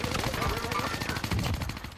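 Rapid automatic gunfire in Call of Duty Warzone on Rebirth Island, a dense, close burst of shots rattling continuously for two seconds with a faint voice underneath.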